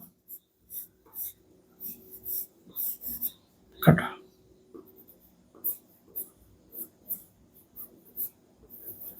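Pencil sketching quick rough lines of a dog on paper: a series of short scratchy strokes in an irregular rhythm, close and distinct, with a soft voice and a brief louder knock midway.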